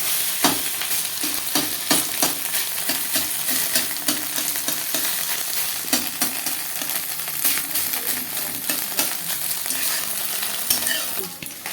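Scrambled egg bhujia fries for chowmein, a loud, dense sizzle running throughout with frequent quick spatula scrapes and clinks against the pan, close up and without speech.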